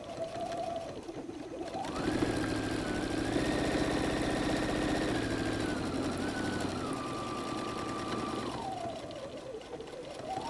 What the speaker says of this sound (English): I'm going to sew this chalk line down now.